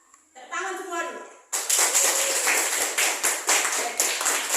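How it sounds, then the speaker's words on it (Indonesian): A classroom of schoolchildren claps hands together in a burst of rhythmic, patterned clapping, loud and close, following a short stretch of a voice. "Tepuk tangan semua dulu."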